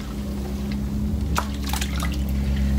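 Water drains out of a basin after a synthetic wig has been rinsed, giving a steady liquid trickle with scattered drips and gurgles over a constant low hum.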